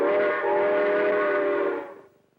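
A human voice imitates a steam train whistle, holding one steady, bright, whistling tone for nearly two seconds before trailing off, close and loud with no other sound.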